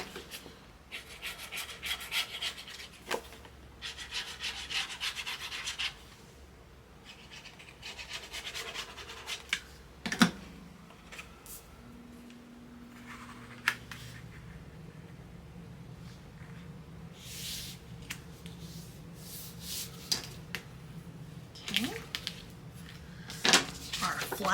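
Paper being folded and a flap burnished on a gatefold craft album, giving repeated dry rubbing and scratching strokes in short bursts, close and fairly quiet, with a person talking intermittently between them.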